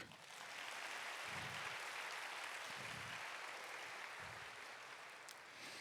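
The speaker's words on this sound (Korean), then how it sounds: "큰 환영의 박수 부탁드립니다." Congregation applauding in welcome for a newly appointed assistant pastor at a young adults' church service, a steady wash of many hands clapping that holds evenly throughout at moderate distance.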